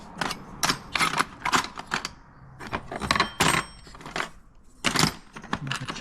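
Loose Meccano parts, metal chain, sprockets and broken metal wheels, clatter and jingle in quick irregular bursts of close metallic clinks as they are sorted and handled, with short quiet gaps between.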